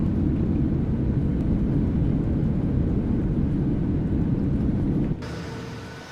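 Airbus A320neo airliner in a flight simulator game with thrust reversers deployed on landing, a loud steady low engine roar that holds for about five seconds, then drops sharply into a quieter whine as the reversers stow.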